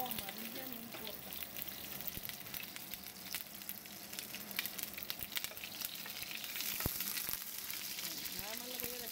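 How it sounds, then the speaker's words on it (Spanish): Red onion and ground chile frying in a pan for Michoacán-style potatoes with chicken in black chile, a steady close crackling sizzle with brief stirring scrapes throughout, soft talk underneath. "Nada más le voy a dejar que fríe"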